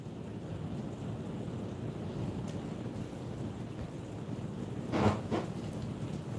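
Rain falls outdoors in a broad, steady hiss mixed with gusty wind rumble, with a brief louder burst of noise near the end and no speech.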